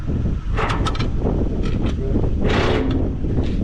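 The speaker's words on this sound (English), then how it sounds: "it's probably about 15 mile per hour wind out here" Strong outdoor wind of about 15 mph buffets hard, with a loud, constant roar and sharper gusts breaking through, no voices.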